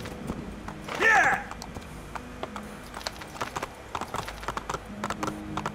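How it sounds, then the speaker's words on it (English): Horse hooves clop in a quick, steady rhythm in the video game Assassin's Creed II, with a short whinny near the start and faint clicks scattered in the background. "you can slow down your horse, you can make it go faster."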